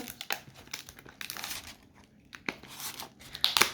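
HP Pavilion laptop with a bent screen and broken hinge being pried open, giving quiet crinkling, crackling plastic sounds in irregular bursts, with a sharper snap near the end; no talking.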